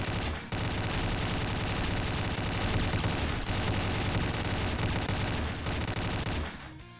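AKM rifle gunfire in the video game Slendytubbies 3, a loud continuous burst of rapid automatic shots that runs unbroken for several seconds before cutting off.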